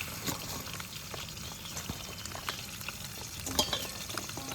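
Small katla fish frying in hot oil, with a close, continuous sizzle, bursts of crackling, and occasional stirring clatter. No one speaks.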